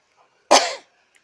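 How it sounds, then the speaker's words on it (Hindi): A single short, close cough from a woman with a mildly sore, scratchy throat, loud and harsh, heard alone in a quiet room. "इसलिए मुझे बीच बीच में खांसने भी पड़ रहे हैं"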